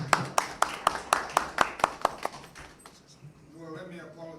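Steady, evenly spaced hand claps ring out at a press conference in Liberia, about ten sharp claps in two seconds before the clapping fades and voices murmur in the room.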